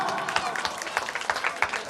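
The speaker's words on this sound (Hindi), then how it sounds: "एक बार जोरदार तालियां।" Short burst of loud hand clapping from an audience at a Teacher's Day program in Titagarh Bansbagan, choppy and uneven, with a voice briefly over it.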